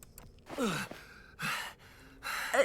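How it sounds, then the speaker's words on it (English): In the video game Ash Echoes, a man who has just jogged ahead stops and gasps for breath, giving three close, breathy pants separated by short pauses. "The man has just jogged ahead to lead the mercenary group and now stops, gasping for breath."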